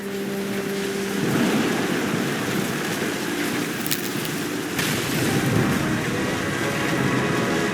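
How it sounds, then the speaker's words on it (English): Heavy rain pours steadily in a thunderstorm in the video game What Remains of Edith Finch, with rolling thunder rumbling beneath a loud, continuous wash. A faint tonal note fades early on. "The thunder sounded much too close and full of angry power."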